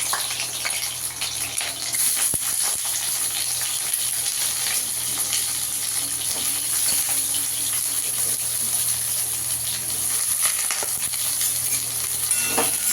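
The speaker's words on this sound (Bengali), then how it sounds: "আগে পটলটাকে একটু লাল লাল করে ভেজে নেবো।" Pointed gourd (potol) frying in oil in a wok sizzles loudly and continuously at close range, a dense steady hiss with occasional crackles.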